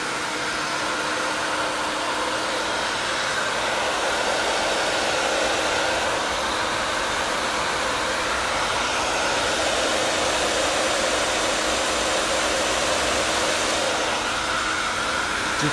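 A salon hair dryer fitted with a diffuser blows cold air onto hair, making a loud, steady whooshing hum that holds unbroken with only slight swells as it moves back and forth.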